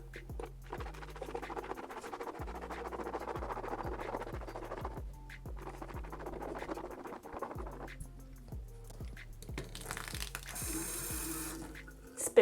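Tap water runs steadily into a bathroom sink during mouth rinsing after tooth whitening, a close, continuous splashing with faint rhythmic scraping and patter underneath.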